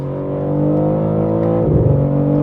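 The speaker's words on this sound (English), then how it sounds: "You get little burbles and you get a nice little push into the next gear." The engine of a 2023 BMW M3 50 Jahre Edition revs loudly up through the gears, its tone climbing steadily before a quick shift that drops the pitch and brings a brief burble, heard close inside the car.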